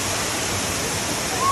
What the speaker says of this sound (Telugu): Jerry water fall.